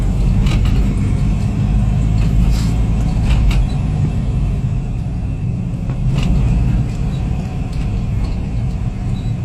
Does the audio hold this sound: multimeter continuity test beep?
no